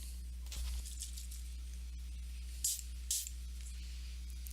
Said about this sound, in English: I'm going to move these out of the way and spray it a little bit more